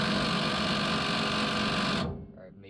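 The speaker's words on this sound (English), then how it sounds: "So first step, pull the bolt off the bottom." A power tool whirs loudly and steadily while removing the bottom bolt of a rear shock on an LS10, then cuts off abruptly near the end, leaving quiet room noise.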